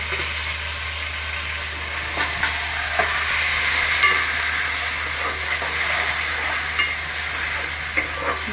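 Grated tomato and onions fry in a pan, giving a continuous crackling sizzle up close with frequent spoon-stirring scrapes throughout and no voices.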